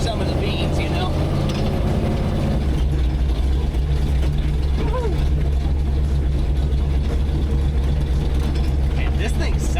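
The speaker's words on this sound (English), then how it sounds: "this thing sounds amazing. That exhaust you did was just what it needed" Big block Ford F-150 truck with a new exhaust, a deep, loud, steady engine rumble running close by the whole time, mechanical rattles over it, with a voice speaking briefly early on.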